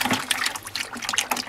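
Coolant drains from the heater core of a 2001 GMC truck, a steady close trickle and splash of liquid with bright watery spatter and no talk.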